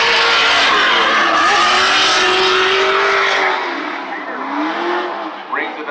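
A Toyota Supra drift car at a Formula Drift event screams past with high revving engine and sustained tire squeal, the pitch sliding as it passes and fades, while a commentator talks over it.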